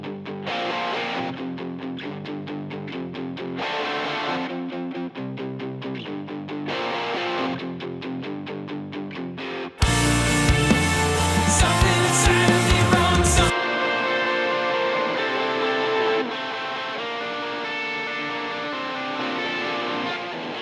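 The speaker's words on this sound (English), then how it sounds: "They were all recorded with a Stratocaster, and most of them are using the bridge pickup, but I have the Vermilion plugin on everything" Stratocaster electric guitars, mostly on the bridge pickup, play through a Vermilion amp plugin with reverb. Rhythmic chugging riffs turn into a loud, dense distorted burst, then a sustained ringing passage, all instrumental with no talking.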